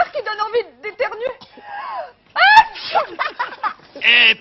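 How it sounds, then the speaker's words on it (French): Animated voices chatter and whimper, broken by one loud, sharp sneeze midway, followed by more excited talking. "on dirait que ce sont ces fleurs qui donnent envie d'éternuer"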